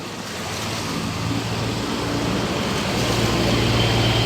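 Floodwater fills a Manila street after nonstop rain while vehicles, including buses, wade through it, making a continuous broad rushing and splashing wash that swells gradually louder with a low engine rumble beneath.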